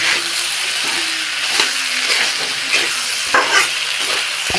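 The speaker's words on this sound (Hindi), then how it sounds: "आलू के बाद ये शिमला में दोनों को मैं खूब अच्छे तरीके से इसे भून लूँगी" Potatoes and capsicum fry loudly in a pan, a constant close sizzle with occasional stirring scrapes and knocks, and no one speaks.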